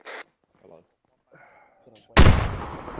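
A frag grenade detonates in Arma 3 during an infantry room-clearing push: a sudden loud, close blast erupts after a few quiet moments of faint voice chatter, then rolls off into a long rumbling decay.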